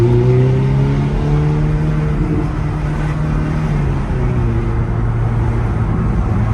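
A car engine is given gas and pulls away in a loud, steady, tonal drone that drops slightly in pitch partway through, close and continuous with no talking.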